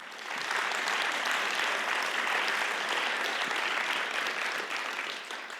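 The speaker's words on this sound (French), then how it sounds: "Oui, on peut l'applaudir." An audience at a cinema screening applauds a pianist who will accompany the films, producing a steady, dense wash of clapping from many hands that holds evenly throughout and eases slightly at the end, with no voices over it.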